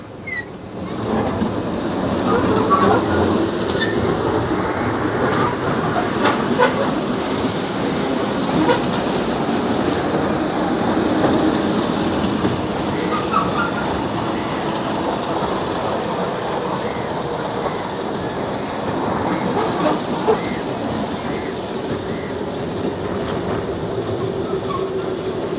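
A train pulls away, its wagons rolling with a steady clickety-clack over the rails, a continuous close rumble with faint voices in the background.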